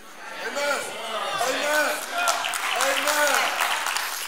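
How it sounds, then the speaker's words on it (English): Scattered clapping from a small number of people in a church congregation, light and uneven under a preacher's voice and general crowd murmur. "only five people clap"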